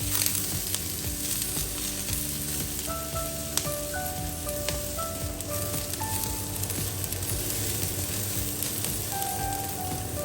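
Onion sautéing in a pan for a Filipino shrimp and saluyot dish, a steady, close sizzle and crackle of frying running the whole time with faint stirring and no talk.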